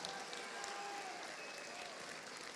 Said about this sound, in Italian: Senti che tifo da stadio, un tifo da stadio.